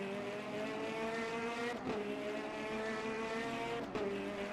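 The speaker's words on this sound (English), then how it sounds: "I hear his wheel rumble every time he hits a curb." Race car engine in a 24 Hours of Le Mans racing video game, a loud, steady high-pitched whine that drops briefly at two gear shifts, with no talking.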